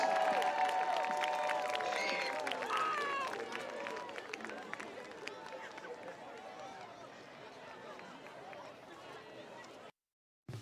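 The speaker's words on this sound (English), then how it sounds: "let's please have another huge round of applause for the class of 2025 senior marching" A large outdoor crowd in a high school football stadium applauds and cheers for a senior marching band class, with a broad, sustained roar of clapping and shouts, scattered voices and whistles, gradually easing off before cutting out.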